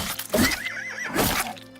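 A horse in the video game Oblivion Remastered lets out a wavering neigh after being hit, loud and close, with a short snort or hoof thud before it.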